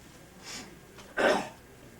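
One person coughs or clears their throat during a lecture, with a faint rasp followed by a louder, short cough burst in a quiet room.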